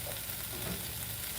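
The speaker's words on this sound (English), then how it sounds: "We're gonna let that saute for a few minutes." Stir fry sizzles as it sautés in a pan, a steady, fairly quiet frying hiss over a short moment with no talking.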